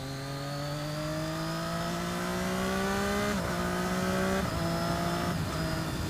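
A 2014 Triumph Daytona 675R motorcycle accelerating hard with its quick shifter, engine pitch climbing steadily and then dropping sharply at each fast upshift, loud and close without talk.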